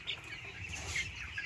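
Fourteen-day-old poultry chicks on a small poultry farm give faint, quick chirps and soft clucks over a low background hum.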